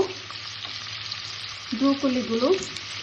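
Broccoli and carrot hitting a hot frying pan over high heat, a loud steady sizzle with stirring scrapes and a squeaky rasp near the end, no voices.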